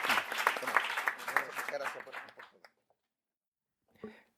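An audience at a public-employment career guidance roundtable applauds a speaker, a moderate burst of clapping that thins out after about two seconds, with a few faint claps later.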